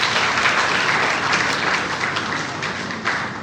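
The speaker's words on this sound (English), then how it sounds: "Let's give it a round of applause." A crowd at a Sierra Leone bar association election event breaks into sustained applause, a dense wash of clapping that holds steady before easing slightly toward the end.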